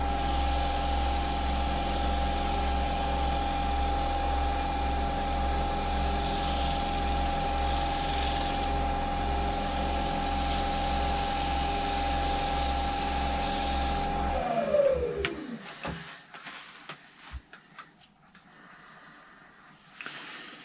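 A lathe spins a coloured wooden bowl while microcrystalline wax is buffed off, a steady close whine and hum that winds down and stops near the end, followed by faint handling clicks.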